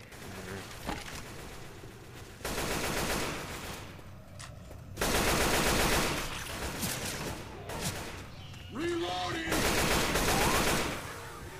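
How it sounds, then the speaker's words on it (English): Gunfire in the video game Dead Air Versus: dense bursts of rapid automatic shots in several loud stretches, with short quieter pauses and faint game sounds between. "Watch where you're shooting!"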